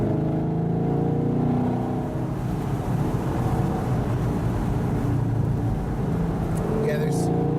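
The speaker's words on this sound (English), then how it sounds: "there's nothing like an American V8. It's normally aspirated. You don't have turbos." A naturally aspirated American V8 in a Camaro SS convertible with a six-speed manual holds a steady, full low drone throughout, with voices talking over it.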